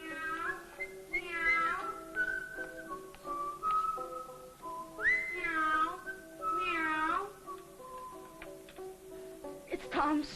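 A person imitates a cat, giving several drawn-out, whistly meows in a row with short gaps, close and fairly loud, with no other speech.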